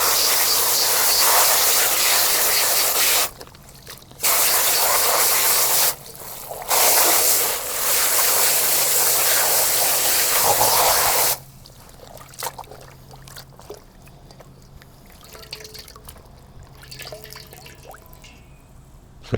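Water sloshes and splashes loudly in bursts as kale is swished and rinsed, then gives way to quieter dripping and soft handling sounds.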